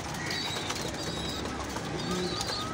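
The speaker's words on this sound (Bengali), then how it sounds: "এটা মাদিটা ডাক অনেক সুন্দর ডাক" A female pigeon calls in a dim breeding room, soft low cooing amid other bird sounds and faint room noise.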